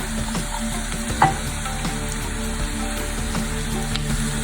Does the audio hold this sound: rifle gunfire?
no